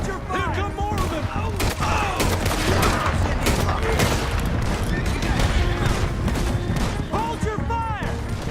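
Dense gunfire from a Red Dead Redemption 2 shootout, a steady crackle of rifle and pistol shots with booming hits, loud and continuous under shouted voices throughout.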